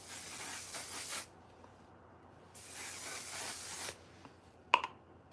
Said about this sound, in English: I talked about the fixing spray. So that's what we're gonna do to lock everything in.